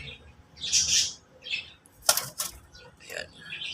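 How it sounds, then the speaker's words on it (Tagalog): Pet pigeons fluttering and calling nearby, with bursts of wing flapping and short squawks and chirps in a brief, uneven sequence, a voice talking intermittently in between. "Meron din tayo rito ang alagang kalapate."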